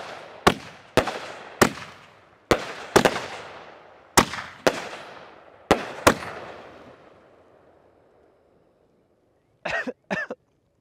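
A series of sharp, loud bangs, about ten in irregular succession, each ringing out briefly, followed by silence and two quick final pops.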